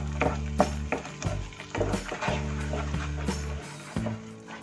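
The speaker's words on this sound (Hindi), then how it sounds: "मीडियम फ्लेम पे ही मसालों को भूने।" Spices for chicken gravy roast on a medium flame, a spoon scraping and stirring the pan in quick uneven strokes over a soft sizzle, close and fairly loud, with a low hum beneath.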